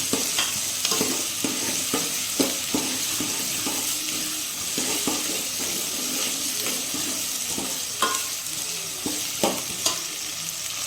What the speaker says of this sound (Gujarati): સરસ મજાનો મિત્રો આ રીતે વઘાર કરવાનો